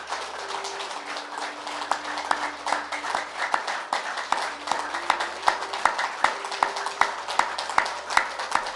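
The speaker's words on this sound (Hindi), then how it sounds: "ताली बजाइए और आनंद लीजिए।" Hands clap in a slow, irregular series of sharp claps during a yoga nidra meditation session, each one distinct over a faint hum.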